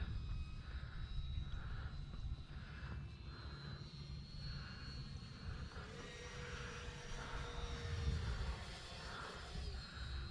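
An electric radio-controlled Habu design jet with a 4-cell battery flies overhead, its steady whine and engine drone holding at moderate distance for the whole stretch, swelling slightly near the end.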